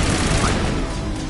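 Automated turret firing in the console version of the video game Mass Effect, a dense, continuous burst of rapid gunfire that fills the short moment at steady loudness with no talk over it.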